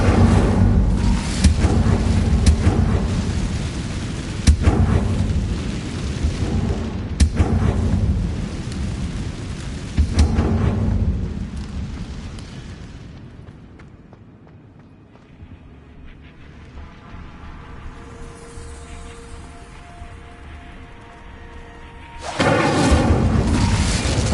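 An Incendio fire spell cast in Hogwarts Legacy, heavy booming roars and crackling rumble swelling loudly, easing into a quieter lull, then surging back near the end.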